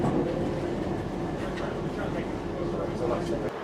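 Interior rumble of an LNER passenger train running between Yarm and Northallerton, a steady, moderately loud carriage drone with faint rail clatter throughout and a slight drop near the end.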